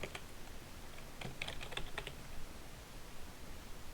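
Quiet bursts of keystrokes on a computer keyboard, a short cluster of clicks mid-way against faint room noise, with no one speaking.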